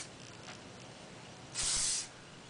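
One short burst of heat protection spray hisses for about half a second onto hair in an otherwise quiet room, close to the microphone.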